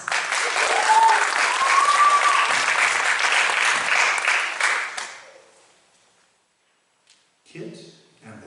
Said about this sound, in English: let's give a round of applause to welcome Kit and the Wondrous Things